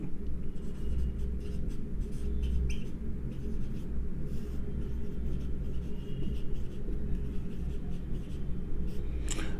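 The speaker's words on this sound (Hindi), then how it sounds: "एक और लिखेंगे, थोड़ा ये लिख लिए, एक और लिखेंगे" Pen writing notes during a lecture on research methods, a continuous scratchy scribble of strokes close by over a steady room hum, with no talking.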